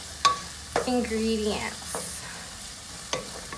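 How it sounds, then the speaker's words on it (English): Onions sizzle in a frying pan while a utensil stirs and scrapes them in a few distinct strokes, close and moderately loud, with a brief spoken word near the start. "I don't know if you can hear the sizzling, but I still have my onions going."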